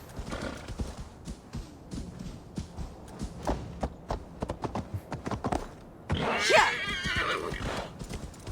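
Horse hooves clip-clop steadily in Assassin's Creed Valhalla, with a clear neigh bursting out near the end over the game's ambient background.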